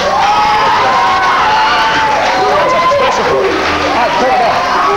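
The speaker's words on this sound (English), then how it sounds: "Keep applauding. Keep applauding." A studio audience applauds and cheers loudly and steadily for the whole stretch, a dense, continuous wash of clapping and whoops with voices mixed in.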